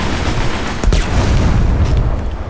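Loud, dense bursts of grenade explosions and gunfire in the Destiny game, a heavy rumbling boom with sharp cracks layered over a continuous roar of battle.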